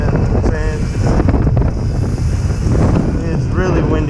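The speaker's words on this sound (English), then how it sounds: "it's really windy right now" Strong wind buffets the microphone outdoors in a loud, continuous roaring rumble for the whole stretch, with a faint voice surfacing briefly at moments.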